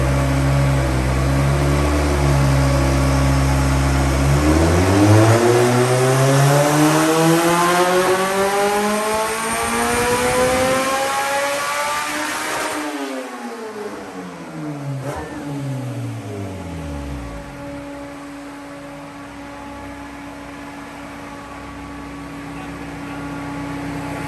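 Honda Integra engine on a dyno running pump gas, revving up in a long rising pull with climbing harmonics, then cutting off and winding down before settling into a steady idle, loud and close throughout.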